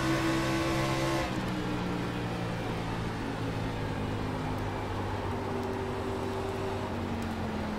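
Race car engines in the pit lane of the iRacing sim at Nashville Superspeedway; a loud, sustained engine drone with steady tonal hum, one pitch dropping early and another car's note rising later, no talking.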